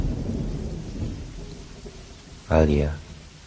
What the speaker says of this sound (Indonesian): Seperti hari ini, gerimis pun mengiringi kepergian Alia.